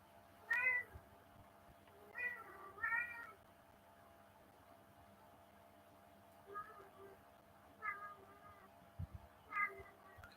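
A sick older cat meows several times, faint and somewhat close, in short plaintive calls spread across the stretch with quiet gaps between, over a steady low hum.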